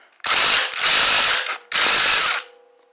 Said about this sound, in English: just be mindful that when you take this nut loose, this trigger wheel will move